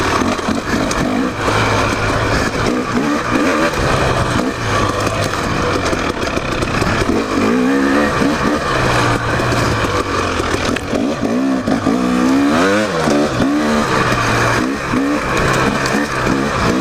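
A KTM 300 XC two-stroke dirt bike with its carburetor revs hard while riding single track, a loud, raspy, continuous engine note rising and falling in pitch as the throttle opens and closes, close to the microphone.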